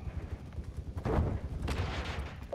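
Gunshots in the Call of Duty DMZ video game, two or three heavy booming shots about half a second apart, loud over a low rumbling background.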